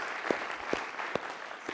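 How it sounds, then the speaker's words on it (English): Conference audience applauding at the close of a tech talk, a steady wash of clapping hands spread across the room with a few sharper claps standing out, moderately loud and without talk. "let's give ourselves a round of applause for staying here until the end"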